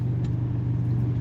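A car passes in traffic, a steady loud low engine rumble and tire roar close by, continuous with no talk.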